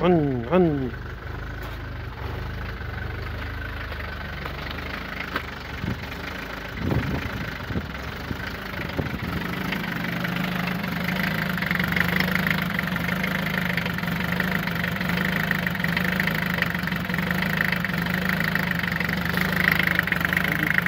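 A shaking, trembling engine idles throughout, with a low rumble and irregular knocking, shuddering pulses; a voice speaks briefly near the start.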